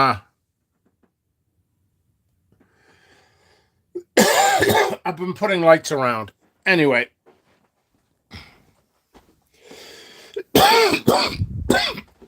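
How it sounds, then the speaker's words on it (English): A few rough throat-clearing bursts and coughs break up a man's speech, loud and close, scattered between short spoken phrases. "Sorry about the coughing."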